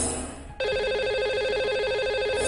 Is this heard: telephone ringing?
yes